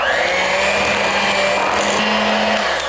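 Electric mixer beating egg into oatmeal raisin bar batter, a steady continuous whir held at even loudness from start to finish, close up with no talking.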